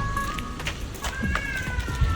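A cat meows several times in short, rising cries, close by, over a low rumbling background.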